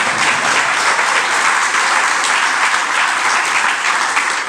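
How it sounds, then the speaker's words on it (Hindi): An audience at a religious sermon claps together in sustained, dense applause that stays loud and even throughout, with no talking over it. "इस पर अच्छे से ताली नहीं बजाई लगता है"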